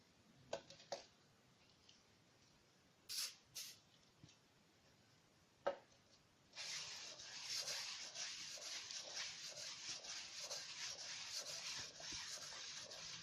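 A speed skate blade is sharpened by hand, first a few scattered scrapes and taps, then a steady, faint rhythmic rubbing of stone against steel that continues to the end.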